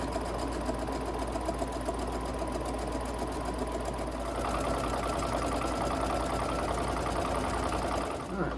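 A sewing machine runs steadily while back stitching fabric for a laundry room window covering, a close continuous whirring hum with rapid needle chatter that shifts slightly in pitch partway through.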